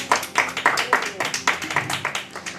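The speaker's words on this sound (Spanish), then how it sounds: "¿Cuántos pueden darle un fuerte aplauso al Señor?" Congregation in a church service clapping together, a rhythmic run of loud, fairly even claps about every quarter second, close and continuous for a few seconds with no talking.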